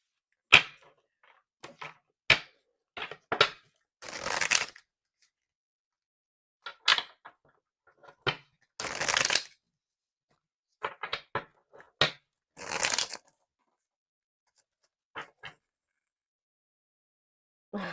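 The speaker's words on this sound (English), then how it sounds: "I was already seeing this card in my head while I was shuffling this deck" A deck of tarot cards being shuffled in bursts, with riffling rustles and soft card taps separated by quiet pauses, close and fairly faint.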